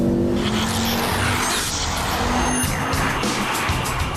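A Ford Focus RS with a turbocharged engine driven hard, its steady loud engine roar filling the scene with faint tire noise and no talking.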